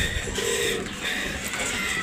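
Racing pigeons arrive at the home loft at the end of a 193.58 km derby race from Ragay, Camarines Sur, with soft cooing and bird calls over steady outdoor ambience and a low hum.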